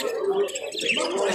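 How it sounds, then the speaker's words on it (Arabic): Small Texas finches chirp and tweet in a continuous chatter of thin, high calls, fairly close, with faint cooing and background room noise mixed in. "ده عصفور تكساس، ده نوع من انواع التكساس."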